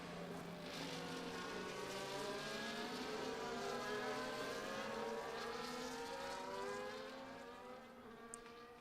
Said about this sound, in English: tyre warming going on in the background